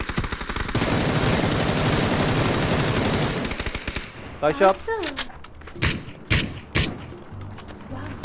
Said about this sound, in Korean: 반대에서 총 튀었어.